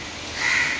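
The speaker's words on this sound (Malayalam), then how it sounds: "കാക്ക കരയുന്നു കാക്ക വരെ തെറി വരാൻ തുടങ്ങി" A crow caws once from a distance, a single drawn-out call rising over steady background noise, with no voices in the clip.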